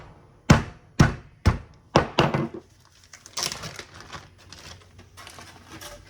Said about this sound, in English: You're just popping open the garlic.